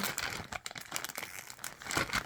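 A plastic yarn-kit bag crinkles and crackles as the extra air is squeezed out of it, a close, busy run of crisp rustling bursts that continues for a couple of seconds with no talking.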